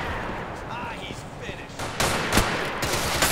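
Gunfire in GTA IV, with sharp shots and bursts piling up in the second half over a busy game background.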